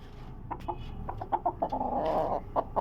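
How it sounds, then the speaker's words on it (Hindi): Chickens out in the open at dusk cluck in short, scattered bursts, fairly close and moderately loud, over a faint low background hum with no talking. "मगरिब का टाइम हो रहा है और मुर्गे जो हैं वो अभी तक खुले हुए हैं।"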